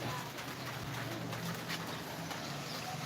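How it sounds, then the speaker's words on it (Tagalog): Pigeons on a rooftop coo faintly and softly in a quiet setting, with low, muffled calls repeating under a light background hiss. "Pakita ko sa inyo yung kalapati ko."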